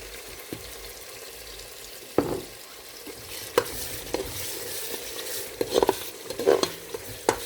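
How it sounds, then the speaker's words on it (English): Nigerian stew base with seasoning powder frying in a pot, a steady low sizzle broken by scattered clinks and scrapes of stirring, sharper knocks near the end, with no voices. "we'll just let this cook, fry properly"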